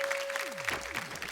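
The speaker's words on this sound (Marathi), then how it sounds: "एकदा जोरदार टाळ्या झाल्या पाहिजे त्या ताईंसाठी." A Marathi television show audience applauds a contestant in a brief, moderately quiet burst of dense clapping, with a musical sting and electronic tones sweeping over it.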